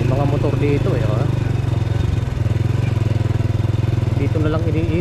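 A motorcycle engine idles nearby on a rural road, a loud steady low putter with a rhythmic pulse, while people talk over it.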